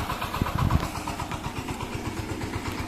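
A homemade automatic tractor's engine runs nearby as it turns in a muddy field, a rhythmic mid-pitched chugging with a brief louder knock at the start.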